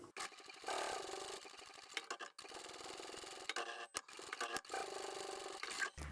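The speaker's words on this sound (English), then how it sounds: "sew along the bottom edge. And we'll top stitch this one." A sewing machine top-stitching a fabric zippered phone pouch runs in long, steady whirring bursts with a few brief stops and restarts, close and fairly quiet, with no talking.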